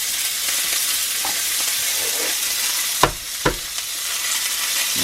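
A steak sears in a cast-iron skillet with a loud, continuous hiss and crackle, broken by a couple of brief thumps.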